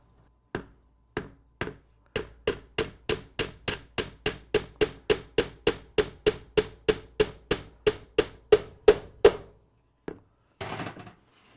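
A small nail is hammered in a workshop: a steady run of about two dozen quick, sharp, close taps, growing slightly louder, ending in a brief pause and a short scraping rustle.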